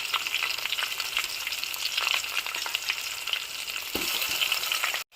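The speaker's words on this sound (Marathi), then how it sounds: "चला तर भाजी फोडणीला घालते" Vegetables hit hot tempering oil in a pan and fry with a steady, close crackling sizzle, broken by a brief stirring scrape near the end before the sound cuts off.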